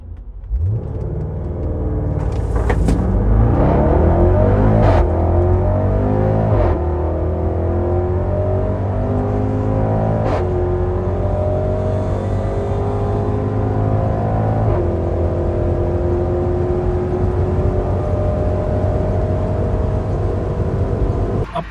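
An untuned Land Rover Defender accelerates hard from a standstill without launch control, its heavy engine roaring loud and close as it revs up through several gear changes, each shift briefly dropping the pitch before it climbs again.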